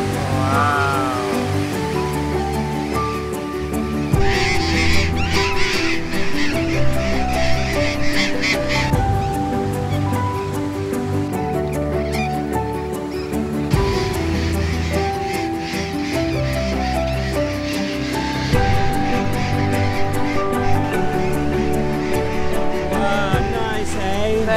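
A colony of hundreds of loud parrots nesting along cliffs screeches in a dense, unbroken chorus for the whole stretch, calls overlapping near and far with a faint wash of surf beneath.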